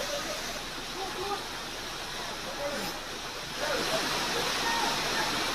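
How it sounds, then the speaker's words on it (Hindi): Rainwater pouring past houses in Jodhpur, Rajasthan after heavy rainfall, rushing like a waterfall as a continuous broadband roar that swells louder toward the end, with a voice talking faintly underneath. "जैसे किसी पहाड़ से झरना बह रहा हो, लेकिन ये घरों के आगे से निकलता हुआ पानी है"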